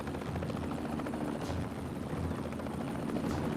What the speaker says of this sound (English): What happens if I try to grapple into the chopper?